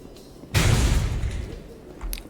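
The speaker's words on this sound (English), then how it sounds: "Why is there always an explosion coming from over there?" An explosion in the Mass Effect video game, heard as a sudden heavy boom with a deep rumble that slowly fades, followed by a faint crackle of debris.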